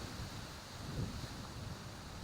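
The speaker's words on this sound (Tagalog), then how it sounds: "Ang lakas ng hangin, sobrang lakas ng hangin." Steady, loud rushing wind roaring across the microphone, a broad constant whoosh with slight swells and no voices.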